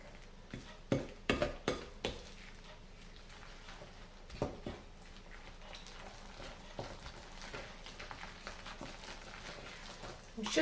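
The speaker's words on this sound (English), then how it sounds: "Let's just mix that together, combine all the wet and the dry ingredients." Wet and dry ingredients for an apple cinnamon cake being mixed in a bowl, with a few clattering knocks at the start, then soft, steady stirring and scraping under faint background noise.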